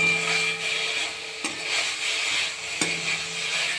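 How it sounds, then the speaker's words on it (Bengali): Leafy greens being stir-fried in a pan, with a steady soft sizzle under the scrape and rub of stirring and two sharp clacks of the utensil against the pan, close and continuous. "শাকটা ভেজে ভেজে রান্না করছি।"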